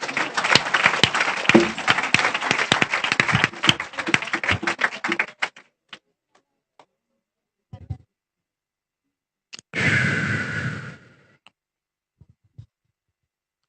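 An audience at a church service breaks into loud, dense clapping that lasts about five seconds and fades out, followed by a few stray claps and a second short burst of applause after a pause.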